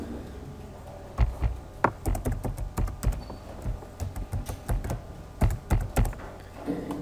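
Keys on a computer keyboard are struck in quick irregular clusters, close and moderately quiet over a faint background hum, with no voices.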